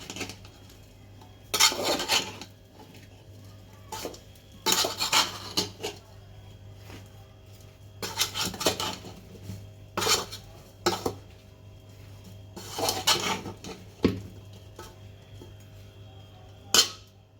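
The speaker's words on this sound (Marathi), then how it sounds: "आता मी मिक्स करून घेते मसाला" Raw mango pickle masala is stirred in a metal vessel, with repeated sharp clinks and scrapes of a spoon striking the sides in irregular bursts and short pauses between them.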